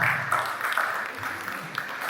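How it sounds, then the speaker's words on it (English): An audience at a World Environment Day event gives a round of applause, steady mixed clapping that carries on for a couple of seconds at moderate loudness. "round of applause for him."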